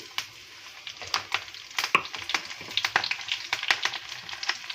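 Mustard seeds, dried red chillies and curry leaves crackle and sizzle in hot oil, with sharp popping bursts scattered over a steady hiss, close and moderately loud.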